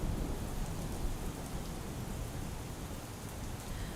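Torrential downpour in Kodinar, Gir Somnath, with water running through the streets: a dense, unbroken roar of rain, fairly faint overall and with no voices.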